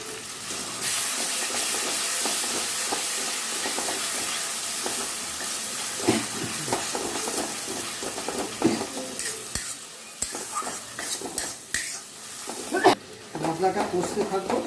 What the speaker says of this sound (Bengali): মশলাটা কষতে থাকবো, তেল ছেড়ে দেবে।